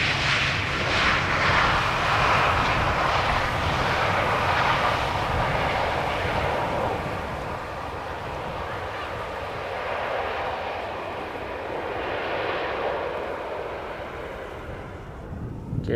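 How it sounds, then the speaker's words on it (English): An Airbus A320 arriving from Basel at Amsterdam Schiphol Airport gives a steady, broad engine roar that holds strongly for several seconds, then eases slightly and carries on as a lower continuous rumble. "And an A320 arriving from Basel behind it"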